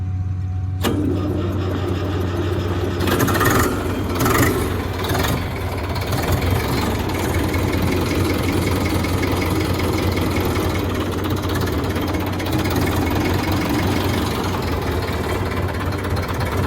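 A 1990 model 5911 tractor engine runs steadily throughout at close range, a loud continuous diesel rumble with a few sharper revving bursts early on and no talking.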